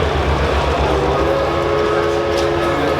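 Hybrid Greenbrier model train locomotive sound system at a railway train show, playing a steady loud rumbling engine drone with sustained whistle-like tones over it, continuous throughout.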